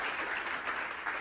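A conference crowd at Startup Grind 2014 gives a round of applause, a soft, continuous wash of many hands clapping heard from a distance.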